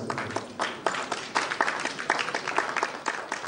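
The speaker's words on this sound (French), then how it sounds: "Est-ce qu'on peut applaudir pour la Côte d'Ivoire?" Conference audience at a leadership forum applauding, a full, even roll of many hands clapping at moderate distance, continuing without speech.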